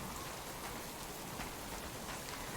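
Steady, even rain falls on the ground in the survival game Subsistence, a dense continuous patter of drops at moderate level, with no voices or thunder.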